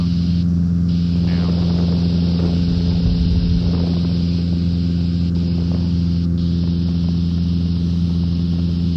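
Small airplane in flight climbing toward 6,500 feet, a loud, steady engine drone with strong low harmonic hum filling the cabin throughout, while a voice briefly mumbles over it.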